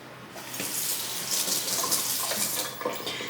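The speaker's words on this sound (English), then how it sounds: "So I add in a few bananas. And then I will wash that." Bananas are washed under a running kitchen tap, with a steady stream of water splashing and shifting as the fruit moves under it. The sound is close and continuous, and nobody speaks.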